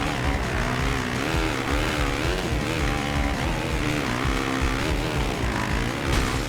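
Motocross bike engine in MXGP 2, droning steadily and loudly the whole time, its pitch wavering up and down as the throttle rises and eases.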